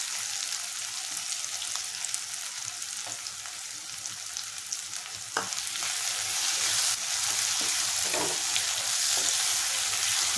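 Chopped onions sizzle and fry in hot oil with ginger garlic paste for a homestyle dry prawn curry, a steady crackling hiss heard up close with occasional stirring scrapes.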